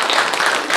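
A church congregation at an Easter service applauds new members, a loud, full wash of clapping that runs continuously through the moment with no speech on top.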